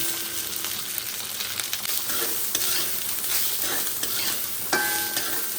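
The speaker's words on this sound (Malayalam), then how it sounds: "ഇനി നന്നായിട്ടൊന്ന് ചെറിയണം ഈ നാളികേരം നന്നായിട്ട് മൂത്ത് വന്നിട്ടുണ്ട്" Grated coconut fries in a pan for an erissery, a steady close sizzle with repeated scraping stirs of a spoon through the mixture.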